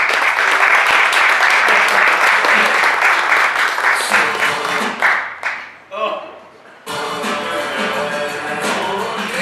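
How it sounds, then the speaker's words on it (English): Audience gives a round of applause as a speaker takes the stage at an education event, loud dense clapping that fades out partway, then resumes after a short gap. "Let's give him a sympathy round of applause as he comes to take the Spark stage."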